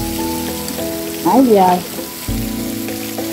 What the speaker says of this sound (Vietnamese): hiện tại giờ trời đang mưa